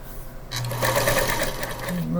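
Foot-pedal-operated sewing machine stitching a holiday cardinal quilt, starting after a brief pause and running in a steady, close mechanical whir with quick needle clatter, with faint talk underneath.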